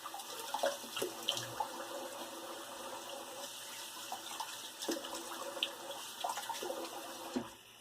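Tap water runs into a bathroom sink while a face is rinsed after a wet shave with a boar brush and Gillette SlimClip razor, a faint, steady trickle broken by small splashes.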